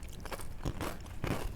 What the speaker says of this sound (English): If anyone would like to really hear me crunch some Frosted Flakes.